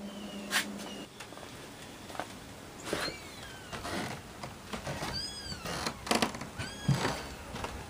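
Kittens in a small nest niche outside meow in thin, high, repeated cries, several bursts across the clip, mixed with an adult cat's calls and light rustling nearby.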